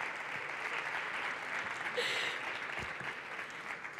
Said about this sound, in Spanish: Bueno, puedes aplaudir, apláudele. ¡Aplaude!